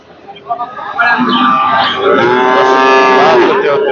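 A loud, drawn-out moo from cattle close by at a livestock market, following a few short grunting sounds.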